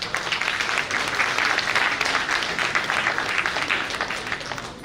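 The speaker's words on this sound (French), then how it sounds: "Je voudrais qu'on applaudisse Joseph Wole." Dense, steady audience applause fills the room at the 2022 Djaka Festival Adja edition launch in Abidjan. It stays loud and continuous throughout, then eases slightly near the end.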